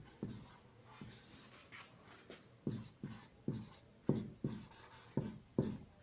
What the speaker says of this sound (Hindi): तो यहाँ पे BC का फॉर्मूला लिखेंगे